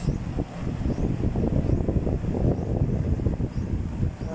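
An electric fan running on its lowest speed setting blows straight into the microphone, making a steady, close, rough rush of buffeting air with no talk.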